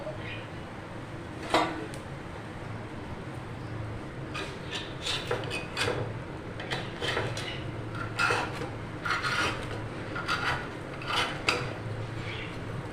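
Metal spoon scraping and clinking against a hot pan while lifting out soft chitoi pitha on a gas stove, a string of short irregular scrapes and taps over a low steady background hum.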